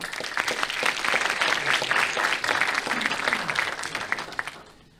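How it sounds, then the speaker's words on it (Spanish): Conference audience applauding after an introductory talk on artificial intelligence, a dense steady clatter of many hands that holds for about four seconds before fading out near the end. "Un fuerte aplauso."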